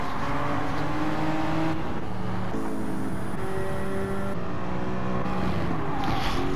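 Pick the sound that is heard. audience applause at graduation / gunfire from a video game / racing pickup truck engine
racing pickup truck engine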